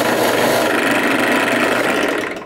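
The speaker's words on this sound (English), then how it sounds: "They're not aggressive, so they sand plastic really well." Non-aggressive sanding wheels work cast plastic pieces, producing a loud, steady whirring grind that holds constant for a couple of seconds before tapering off at the end.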